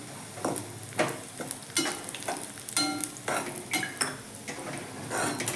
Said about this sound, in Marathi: खोबरे आधी तळून काढूया याच्यातून.